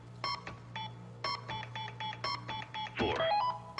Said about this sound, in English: Lazy, you wait for the double beep on 4